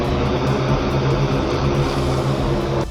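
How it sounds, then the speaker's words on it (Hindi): A drone carries food to flood-stranded families in Punjab, its steady droning engine or propeller hum loud and continuous throughout, with no voices. "बाढ़ की वजह से जहां लोग नहीं जा सकते, वहां ड्रोन भेजे जा रहे हैं।"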